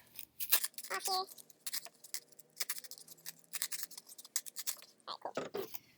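A foam Amtgard sword having its edges trimmed with a blade: a close series of irregular, crisp snipping and scraping cuts separated by short pauses.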